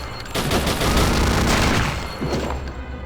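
Sustained Gatling gun machine-gun fire in the video game RealRTCW, a dense loud burst of rapid rounds lasting a few seconds and tapering slightly at the end.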